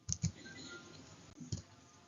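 A computer mouse gives three quiet, close clicks: two in quick succession, then one more after a short pause.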